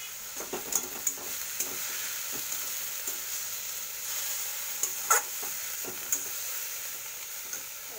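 Beto greens fry in a pan with salt and turmeric, giving a soft, steady sizzle with scattered faint clicks of stirring, quiet and close.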